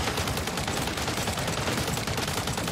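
Sustained automatic gunfire from MW3 Zombies rattles on in a dense, even stream, moderately loud with no breaks.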